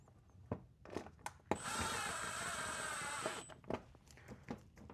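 A power tool drives out a wheel bolt on a 2014 Ford Edge in one steady whirring burst of about two seconds, surrounded by sharp clanks and clicks of the tool and bolt being handled nearby.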